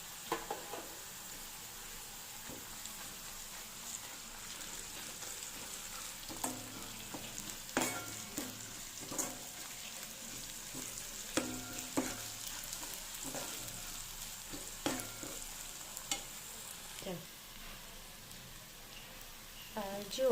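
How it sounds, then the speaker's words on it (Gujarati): Ginger, chili and garlic paste sautéing in a pan for a green pea sev usal, a soft continuous sizzle with intermittent spoon scrapes and clinks, fairly faint and close. "જુઓ, આ પેસ્ટ સતળાઈ ગઈ છે"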